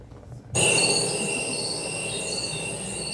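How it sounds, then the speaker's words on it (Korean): Recorded cricket chirping played over speakers during a Christmas church stage performance, a dense high-pitched trilling of several insects that starts suddenly after a brief quiet and carries on steadily. "저희 곤충 소리, 귀뚜라미 소리 한번 틀어드리겠습니다"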